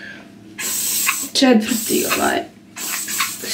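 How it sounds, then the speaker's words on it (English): Taft Keratin ultra strong hair spray hisses from an aerosol can onto styled curls in short bursts, a breathy spray noise between and under someone speaking. "sada ću to malo da poprišćem sa lakom za kosu"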